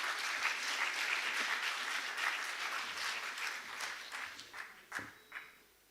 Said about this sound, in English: A big round of applause for all our panelists